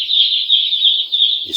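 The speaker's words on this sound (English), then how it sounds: "that noise you're hearing because of there's no light for them." Broiler and noiler chickens in a dark pen after a power cut give a continuous high, shrill agitated calling, close and loud, with a brief low knock near the end.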